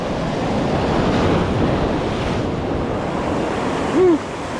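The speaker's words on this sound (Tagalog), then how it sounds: "tumasampa yung alon." Sea waves wash and break steadily at a shoreline as the high tide rises, a continuous moderate surf roar with wind noise and a brief tonal chirp near the end.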